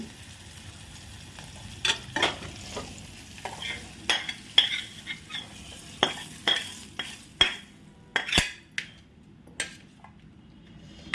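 A spoon stirs green chilies and potato pieces frying in a pan for sabudana khichdi, giving scattered scraping clinks over a faint sizzle, close and irregular.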